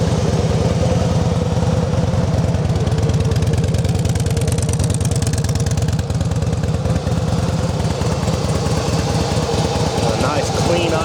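A Harley-Davidson Softail Deluxe FLSTNI motorcycle, freshly serviced, idles steadily nearby with an even, loud, throbbing rumble that holds constant throughout.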